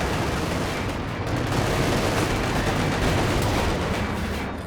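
A DShK heavy machine gun fires in Company of Heroes 2, a dense, continuous roar of rapid shots and battle noise that stays loud throughout without pause.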